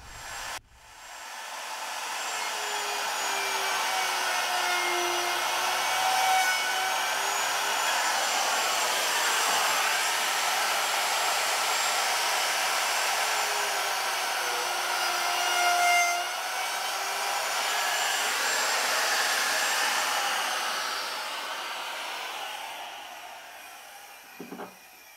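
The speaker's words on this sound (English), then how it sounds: "now I'm just going to grab my router and take out, oh, about a quarter inch" A router cuts loose knots out of a 28-foot wooden sailboat mast, with a steady high whine that runs continuously for over twenty seconds, wavering slightly in pitch as it bites into the wood, then cuts off.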